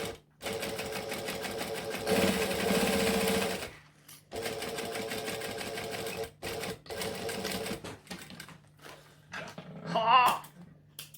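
A sewing machine stitches the bottom seam of a fabric bag in long steady runs broken by short pauses, loud and close, with a brief voice near the end.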